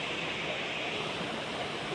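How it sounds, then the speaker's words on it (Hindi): A small waterfall at Mahabaleshwar, with cold water pouring from several points, gives a steady broadband rush that stays fairly quiet and even throughout, with no voices over it. "यहाँ पर एक ये छोटा सा वाटरफॉल है"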